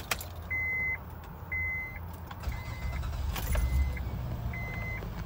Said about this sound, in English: And we will go ahead and crank it up for you guys.